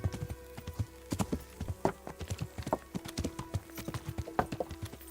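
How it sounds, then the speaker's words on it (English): Horse hooves in the video game Kingdom Come: Deliverance clip-clop steadily on the ground, a busy, slightly uneven rhythm of sharp knocks heard up close with no talking. "Hello, horse."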